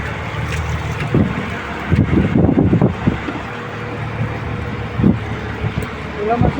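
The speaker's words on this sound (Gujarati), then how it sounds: "દરિયામાં અત્યારે વાવરો મોજો થઈ ગયો છે બોટ આખી હલે છે" Wind and choppy water around a rocking boat at sea, with rushing gusts and splashing bursts, and voices talking intermittently underneath.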